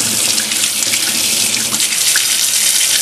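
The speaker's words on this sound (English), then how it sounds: "And it looks like we got water." Newly installed kitchen faucet running at full flow, a loud steady hiss and splash of water into the sink, close and continuous with no talking.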